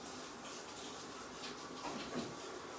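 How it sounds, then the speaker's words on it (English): Tap water running into a bathtub as it fills, a steady broadband hiss and splash that holds close and even throughout, with a slight swell near the end and no voices. "I'm just going to run the bathtub water, get some of that water going"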